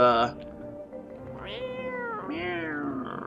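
A cat meows in a video game, two drawn-out rising and falling cries following one another, heard clearly and close at moderate loudness over soft background sound.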